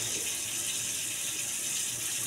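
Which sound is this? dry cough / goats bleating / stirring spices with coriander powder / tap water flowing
tap water flowing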